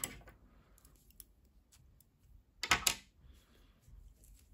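Scissors snip through knitting yarn in one crisp, close double-edged cut, with only faint handling ticks around it in a quiet room.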